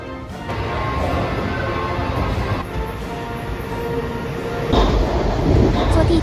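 A Washington DC metro train carries riders under the city, a steady rumble of wheels and carriage noise that holds for the whole ride and swells louder near the end, with faint voices mixed in underneath.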